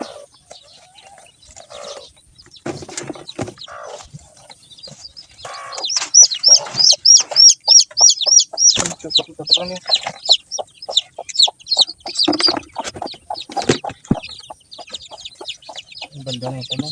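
Newly hatched chicks give bursts of high, rapid peeping and chirping, loudest in the middle, mixed with low clucks, handling noises and occasional voices.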